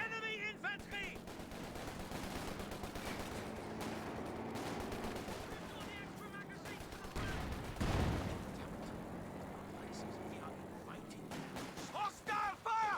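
Gunfire in Company of Heroes 2, with dense crackling bursts and machine-gun rattle running throughout under shouted soldier voice lines and talk, plus a heavier blast near the middle.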